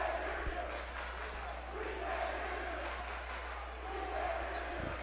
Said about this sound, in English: Usual lively crowd when you get to a sectional game